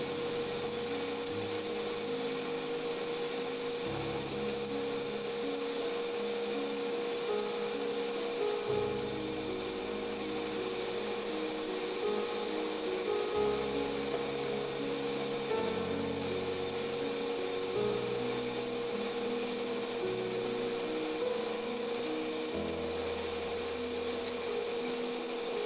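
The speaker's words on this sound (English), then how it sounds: "grinding by hand means that I need to frequently check that I keep clean fuller lines" Hand grinding along the fuller of a forged sword blade, played back at high speed, a dense, continuous scraping and rasping with rapid repeated strokes and a steady tonal whine underneath.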